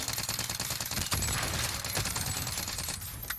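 AR Milano assault rifle in Warzone firing in a sustained automatic burst, rapid evenly spaced shots, loud and close, running continuously without pause.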